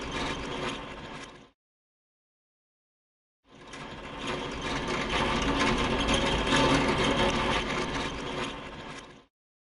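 Small electric hoist motor on a replica mine model, whirring with a busy mechanical rattle, stopping briefly, then starting again and running steadily at close range.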